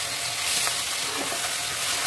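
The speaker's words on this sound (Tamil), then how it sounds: "இந்த தக்காளியை நம்ம போட்டலாம் நம்ம போட்டு வதக்கலாம்" Steady sizzling and frying of tomatoes sautéing in a hot pan, a constant crackling hiss with a few faint stirring scrapes, no voices.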